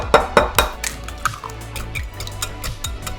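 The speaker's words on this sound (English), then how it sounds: "crack about 10 of these eggs and whisk them up in the bowl" About ten eggs whisked in a bowl, opening with a few sharp clinks of the utensil against the bowl, then a quicker run of lighter ticking taps and scraping as the beating continues.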